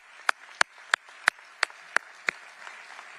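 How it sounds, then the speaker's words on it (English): A few loud, distinct handclaps ring out at a steady pace, about seven sharp claps, then fade into a faint background murmur, as an audience applauds at a city's State of the City address. "Let's give a round of applause for that."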